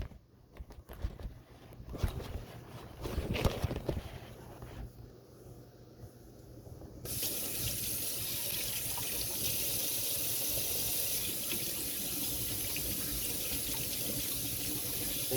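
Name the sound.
washing hands under running tap water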